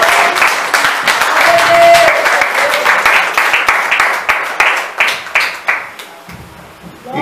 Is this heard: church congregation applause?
yes